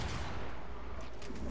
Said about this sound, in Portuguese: tá dando tiro